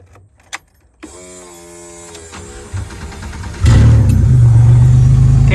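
Derby car engine idling after repairs, with hose clamps tightened and fresh gas added. Scattered clicks and a rising mechanical whir give way to a loud, steady, close engine rumble that continues to the end.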